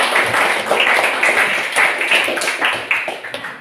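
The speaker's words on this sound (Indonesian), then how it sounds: "Beri tepuk tangan untuk kelompok 1." Classroom applause for a student group, lively uneven clapping from a small crowd close by, with sharp individual claps standing out and fading slightly toward the end.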